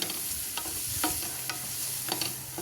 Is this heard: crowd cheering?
no